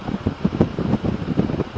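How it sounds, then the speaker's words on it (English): Steady wind rushing past the microphone while riding a Harley-Davidson Street Glide motorcycle, broadband and buffeting, with low rumbling gusts pulsing throughout. "Probably a little windy."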